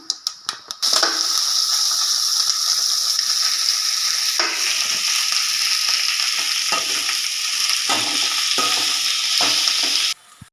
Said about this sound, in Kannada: ಸ್ವಲ್ಪ ಆಯಿಲ್ ಹಾಕಿಬಿಟ್ಟು ಹುರ್ಕೊಂಡೋಣ ಫ್ರೆಂಡ್ಸ್ ಇದನ್ನು